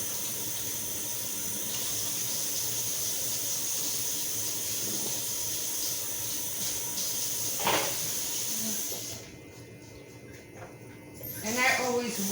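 Washing up at a kitchen sink while cooking chicken soup: tap water runs in a steady hiss for most of the stretch, then stops, followed by a few small splashes and clinks, with a voice talking throughout.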